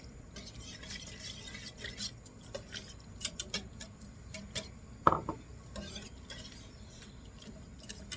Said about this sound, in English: we're going to go ahead and stir in our lemon juice